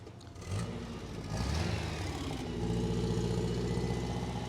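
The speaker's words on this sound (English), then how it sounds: "Okay, Rhonda, rev the engine for me." A 1975 MGB Roadster engine idles, then revs up and holds at a higher, steady drone, close by with no talking.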